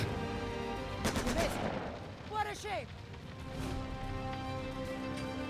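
A gunshot rings out in the Lamplighters League turn-based game, a sharp crack near the one-second mark followed by a rattling tail, set against a steady hum while someone talks over it.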